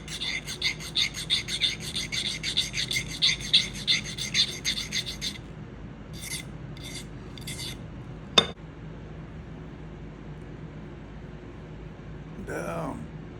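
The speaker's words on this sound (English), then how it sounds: "we need to cut off, and quite a bit. The stem is way too long." Watch crown stem being cut down to length for a home-built Explorer II style watch, a quick rhythmic metallic rasping close up for several seconds, then scattered short scrapes and a single sharp click.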